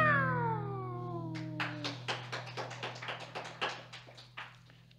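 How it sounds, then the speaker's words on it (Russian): Cat meows with falling pitched tones at the start, then a fast run of sharp repeated taps or claps over a steady low hum, all fairly loud at close range. "Кошки же, кошки. Мяу!"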